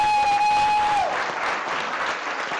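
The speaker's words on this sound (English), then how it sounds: "Let's give him a round of applause." Audience applause for a visiting dining critic serving as a judge at a chef competition, steady dense clapping from a sizable crowd, close and moderately loud, with a brief tone sounding over the start before it fades.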